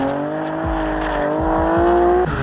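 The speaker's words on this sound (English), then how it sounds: "Another junk sounding car." Drift car engine revving hard with tire squeal during a tandem drifting session, a loud close rasping engine note with rising and falling revs and short gear-change dips.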